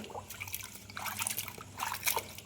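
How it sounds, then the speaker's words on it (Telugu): Water from a tap trickles and splashes steadily over fish being rinsed, with bursts of louder gushing; no one speaks. "ట్యాప్ కింద అయితే పెట్టేసి కడిగేస్తాను"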